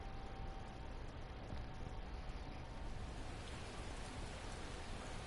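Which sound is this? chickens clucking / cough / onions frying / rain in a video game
rain in a video game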